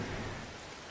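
Steady rain in the prehistoric survival game Ancestors: The Humankind Odyssey, a dense, even hiss of falling water that holds at a constant level for about a second with no voices.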